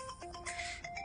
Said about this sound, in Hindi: सॉरी, एक पेशेंट का फोन है